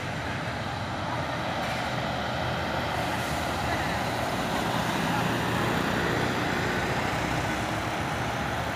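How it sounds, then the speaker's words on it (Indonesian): Two trailer trucks climbing the Bukit Kodok hill road, a steady broadband roar of heavy engines and road noise that holds at constant loudness throughout, without distinct passes or breaks. "Dua unit truk trailer."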